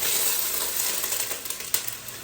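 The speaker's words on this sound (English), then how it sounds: "These onions, the reason why it's sizzling so is because I used my" Chopped frozen onions sizzle steadily in olive oil in a pan over low heat, a close, even hiss with a few small pops and crackles.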